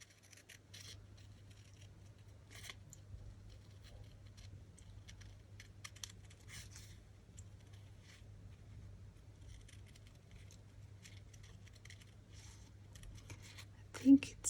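Scissors snip through a paper dress template for junk journal embellishments, producing faint scattered cuts over a quiet indoor hum, with a louder burst of handling right at the end.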